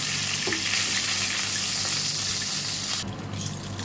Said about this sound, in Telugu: ఫ్రై అయిపోయినాయి ఫ్రెండ్స్ ఫ్రై అవుతున్నాయి